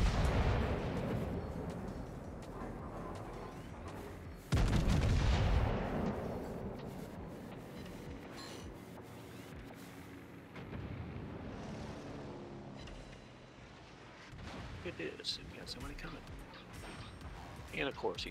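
Large naval guns fire in World of Warships, with a deep booming salvo partway through and distant rumbling impacts afterward, under ongoing talk.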